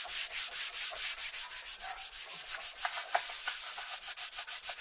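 Wood veneer on an SME 2000 turntable plinth sanded by hand across the grain, with steady rhythmic back-and-forth rasping strokes, close and fairly loud, about four strokes a second.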